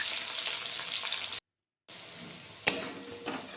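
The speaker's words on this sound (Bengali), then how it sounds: "ভালো করে ভেজে নিলাম রসুন আর কাঁচা লঙ্কা" Crushed green chillies and garlic frying in a pan, a steady hiss of sizzling oil with a short gap of silence and a sharp clank partway through.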